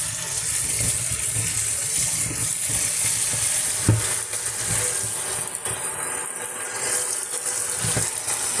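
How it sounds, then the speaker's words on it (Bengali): Bitter gourds being washed by hand in water, a steady close splashing and swishing wash that runs continuously with no pause. "এবার আমি উচ্ছেগুলো ওয়াশ করে নেবো ভালো করে।"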